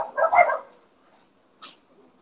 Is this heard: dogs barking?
yes